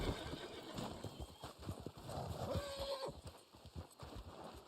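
In Red Dead Online, a horse's hooves clip-clop in a quick run and a short whinny rises midway, all fairly faint under game noise, with a voice murmuring.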